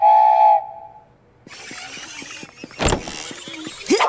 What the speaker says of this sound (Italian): so identificare il fischio di un treno quando ne sento uno